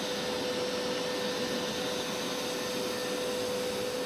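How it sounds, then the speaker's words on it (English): A robot vacuum cleaner runs with its suction on, giving a steady, continuous broadband whir with a faint constant whine, moderately quiet and unchanging throughout, with no voices. "reduction system can reduce suction noise by up to 5 decibels, but in real use, you can definitely still hear it."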